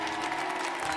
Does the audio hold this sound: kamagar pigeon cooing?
no